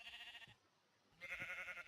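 A black sheep bleats twice in a Minecraft-style video game, two short wavering cries separated by a brief pause, clear and alone.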